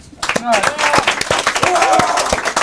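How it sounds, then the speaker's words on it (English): Applause for a club president at the 1993 TV club officer elections: a loud spatter of hand clapping from a small group, with voices talking over it. "Yes, applause here."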